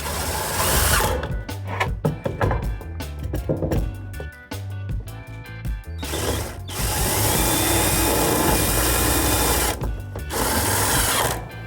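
A power drill driving metal screws while mounting an off-grid solar security camera system, loud whirring bursts and stop-start pulses, then a longer sustained run near the mic.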